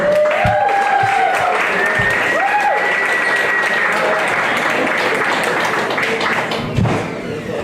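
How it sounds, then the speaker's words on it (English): A comedy club audience breaks into sustained, loud applause and cheering, with a few whoops rising over the dense clapping before it slowly tapers. "Start clapping for Amanda G."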